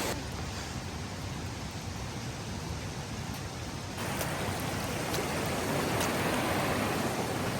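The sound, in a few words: waterfall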